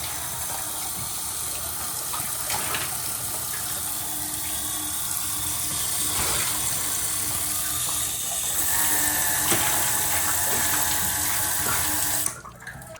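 Water running steadily from a tap into a bathroom pedestal sink and its overflow holes, a continuous close splashing gush lasting many seconds before cutting off abruptly at the end.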